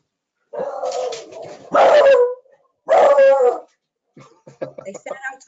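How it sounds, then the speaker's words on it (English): Several dogs bark and yip loudly indoors just after being let in, in sharp bursts with whimpers, mixed with people talking. "I let them in and they start barking"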